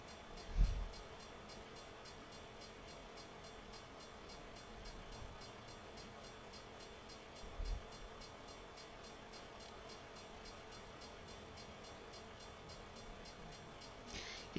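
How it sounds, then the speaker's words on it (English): A train passes a waiting truck in a truck-driving video game hauling to Aberdeen, a steady low rumble and rattle of rail cars running throughout with a few heavier thumps, moderately loud and without talk. "Looks like we're waiting on a train."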